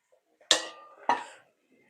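A metal tava griddle pan is set over a pot of crab curry as a lid, two sharp metallic clanks about half a second apart, each ringing briefly in an otherwise quiet kitchen.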